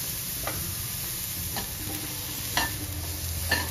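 Vegetables fry in a little butter for a paneer mushroom masala, a constant close sizzle with a few sharp clinks of a spoon against the pan, no voices.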